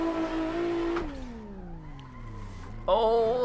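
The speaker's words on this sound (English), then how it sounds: "Oh, a little lockup of the front wheels." A car in a racing game on a wet mountain course drones loudly, then its pitch slides down as the front wheels lock and skid, before a sudden louder burst of revving engine.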